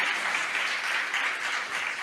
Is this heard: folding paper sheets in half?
no